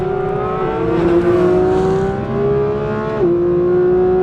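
A 992.2 Porsche GT3 engine revs loudly and steadily, its tone climbing and dropping sharply with gear changes through a sequential-style shifter, close and sustained.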